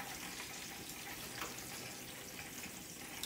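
A chicken steak fries in a pan with a steady, close, crackling sizzle that runs evenly throughout, fairly soft with no talk.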